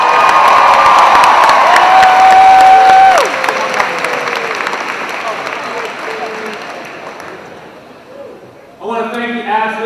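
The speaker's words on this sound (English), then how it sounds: "big cheers and big thanks." A crowd at a high school unified champion banner ceremony cheers and applauds loudly for the first few seconds, then the noise thins out. A sustained tone rises above it, and toward the end a brief, louder burst comes in.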